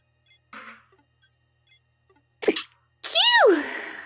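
A person sneezes sharply once, close to the mic, and follows it with a loud voiced exhale, after a brief quieter sound earlier in the quiet room.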